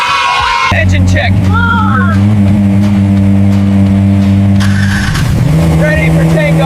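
A cartoon tractor engine runs loudly with a steady droning hum, sliding tonal sweeps and occasional squealing effects, while voices talk over it.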